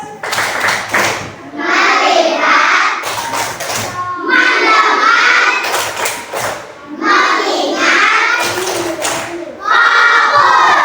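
Classroom of children doing a rhythmic focus clap, bursts of sharp, patterned hand claps alternating with groups of young voices chanting together, loud and close in a lively room.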